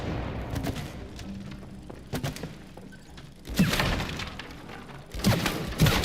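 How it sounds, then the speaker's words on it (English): Explosions in the cooperative video game It Takes Two, heavy booming blasts with shattering debris. One bursts in near the midpoint and another strikes toward the end, over a low game rumble. "That is just a delectable sounding explosion."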